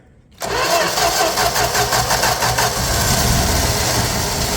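An old slant-six engine in a 1965 Plymouth Valiant 100, first start in years on a 200-amp boost, cranks briefly then catches and roars to life, settling into a loud, rough, steady idle close by.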